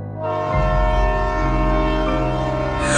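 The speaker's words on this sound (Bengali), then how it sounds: "আর তখনই ঝা ঝা ঝা ঝা ঝা ঝা ঝা ট্রেনটা এসে দাঁড়ালো।" A train pulls into a station with a sustained, loud horn tone over rumbling wheels and engine noise, steady throughout, swelling slightly at the end.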